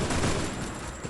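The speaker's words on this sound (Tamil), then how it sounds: "ஒரு புல்லட் விட்டாலும் நச்சுன்னு விழுந்துச்சா இல்லையா?" Gunfire from the Free Fire battle game, a dense burst of shots packed into about a second, loud and continuous with no talk over it.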